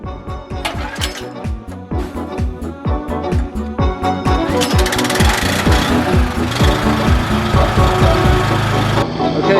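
Sandblasting a rusty vehicle frame, a loud, continuous abrasive blast with rapid clattering, hissing bursts that build into a dense, steady roar close by.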